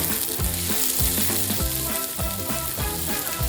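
Onions frying in oil in a pan at the start of a cauliflower sabzi, giving a steady, close sizzle that runs throughout beneath rhythmic background music.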